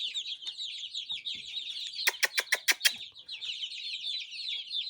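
Chicks peep in a continuous high chatter from a brooder box, while a quick run of five or six sharp, loud clucks bursts out in the middle before the soft peeping resumes.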